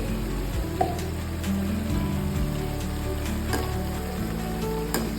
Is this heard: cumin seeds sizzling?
yes